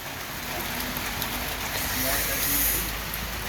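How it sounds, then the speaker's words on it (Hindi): Heavy rain pours steadily outdoors on a mountain road trip, a dense continuous hiss that stays loud throughout with no break. "बारिश हो रही है बहुत तेज़, बहुत अच्छी वाली बारिश हो रही है"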